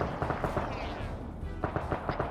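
Sustained gunfire in a military shooter video game, a steady string of close automatic shots crackling in quick rhythm over a dense battlefield din.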